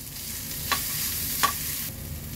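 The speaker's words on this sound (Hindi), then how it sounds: "बस सब्जियों को थोड़ा सा हम सौते करेंगे ताकि ये हल्की सी सॉफ्ट हो जाए।" Cabbage and mixed vegetables sautéing in a pan for a paneer dish, a soft steady sizzle with two light stirring scrapes, close up and without talk.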